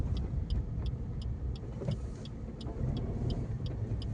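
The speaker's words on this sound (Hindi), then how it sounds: "ये देखो गाड़ियां भी जो निकल रही हैं," Cars pass along a fog-covered road in Faridabad, heard as a steady low traffic rumble with a regular faint ticking over it, without any voices.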